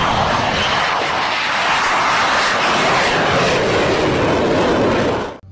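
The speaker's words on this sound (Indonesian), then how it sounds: "Ada pesawat jet tempur." A fighter jet roars loudly overhead, a dense, sustained engine rush that holds steady and then cuts off abruptly.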